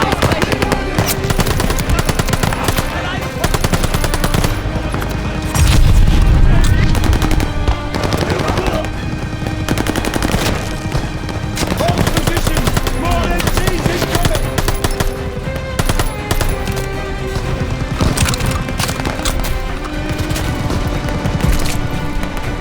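Rapid machine gun fire in Call of Duty Vanguard, sustained bursts of loud staccato shots with intermittent heavier booms, continuous across the battle while soldiers shout orders.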